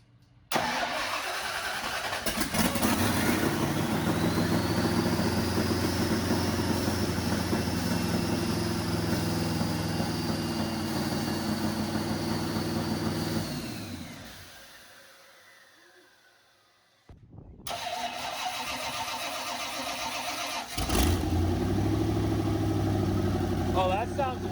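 A V8 engine swapped into a Toyota Corolla and running on Holley EFI cranks and starts, then idles loud and close for several seconds, cuts off into near silence, and starts again with a strong idle.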